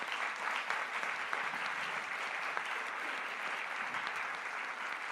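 Applause from a conference audience, a steady full roar of many hands clapping at even loudness throughout, with no voices heard.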